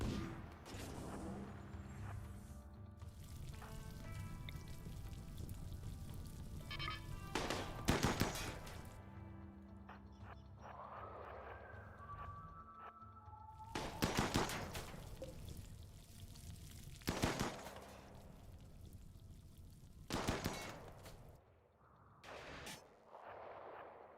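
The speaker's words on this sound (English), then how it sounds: "And the Lancer's going to shoot now." A Lancer fires repeatedly in a RimWorld-style game on a map of shallow water. Several sharp, booming shots ring out at intervals over a low background hum.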